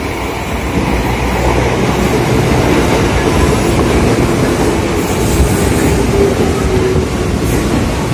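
A commuter train pulls into a station near Jakarta, a loud, sustained rumble of railcars with clattering wheels filling the whole stretch, no voices over it.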